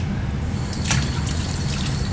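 Tap water runs steadily while rinsing conditioner out of clip-in hair extensions: a close, continuous splashing trickle with a brief brighter gush partway through.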